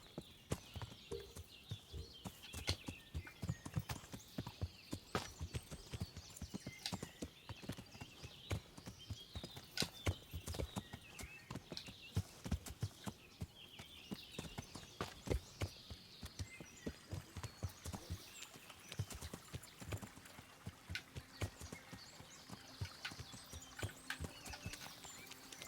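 Horse hooves clip-clop steadily at a walking pace in the video game Kingdom Come Deliverance, a soft continuous rhythm of hoofbeats with faint ambient background.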